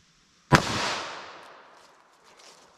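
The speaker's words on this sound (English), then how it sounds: "So let's just shoot it with our 38" A single sharp .38 Special revolver shot fired into a ballistics gel block, a loud crack that rings out and decays over about two seconds, with no talk.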